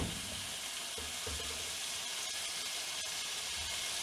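Aloo matar chicken salan fries in a cooking pot with a steady, broad sizzle that stays even throughout, heard alone with no talking.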